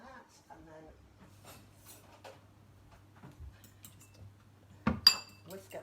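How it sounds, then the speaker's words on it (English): An egg is whisked for an egg wash with light clinks of utensil against a bowl in a kitchen, faint and intermittent, with a sharper clatter near the end. "then just whisk up that egg like so"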